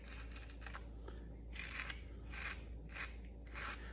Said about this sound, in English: squeeze it into the hole like that, kind of like scrape it